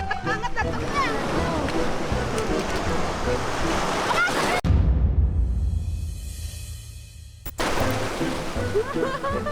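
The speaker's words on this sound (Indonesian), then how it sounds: "Ombaknya mulai pasang tuh." Sea waves surge and break on a rocky shore along the Pangandaran coast as the tide comes in, a loud, continuous wash with a sharp splash midway and a quieter lull, with some talking over it.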